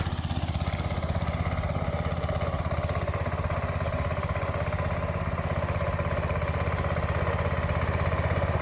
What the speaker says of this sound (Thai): นี่รอบเบาครับ